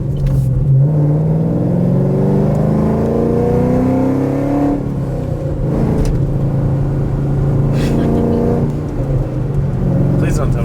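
A 2015 Chevrolet Camaro SS 1LE with about 500 hp accelerating on a wet road, heard from inside as a loud, deep engine drone rising in pitch through gears, with people talking over it.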